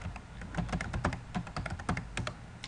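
An email address is typed on a computer keyboard: quick, irregular clicking keystrokes, close and fairly quiet, with no voices.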